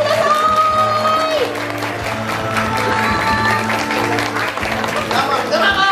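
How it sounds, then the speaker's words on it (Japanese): An audience at a Kumamon Square stage event in Kumamoto claps to welcome the entertainer Korokke, a sustained burst of applause with a few whoops, a faint voice and steady background music tones running underneath. "拍手でお迎えください。"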